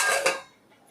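A plate set as a lid over a pot of rice on a stove top, giving a short ceramic-on-metal clatter at the start that quickly fades to near silence.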